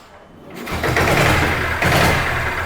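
A restored 1996 diesel Bullet motorcycle starts and settles into a close, steady running chug that rises briefly as it is revved, with no talk over it.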